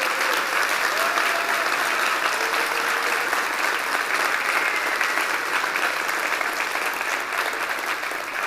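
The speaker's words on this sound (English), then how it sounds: "I think we should show them a round of applause." Thick, continuous applause from a large audience at the Anarchapulco 2020 conference in Acapulco, a steady roar of clapping holding at one level throughout.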